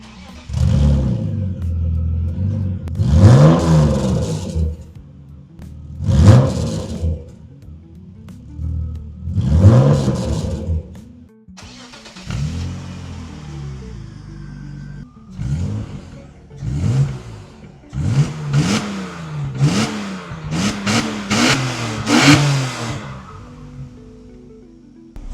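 A BMW E36 fitted with the cheapest aftermarket exhaust revs repeatedly, loud rising blips and falling burbles close by, ending in a quick series of sharp throttle stabs.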